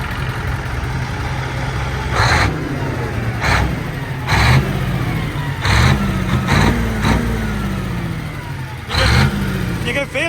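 A large tractor engine idles steadily at a busy tractor festival, a low continuous rumble with people talking and brief louder bursts of nearby crowd noise.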